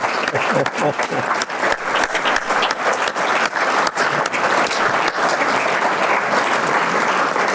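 Sustained, dense audience applause fills the space at a steady, loud level, many hands clapping at once with no pauses, following a performance of the San Marcial melodies.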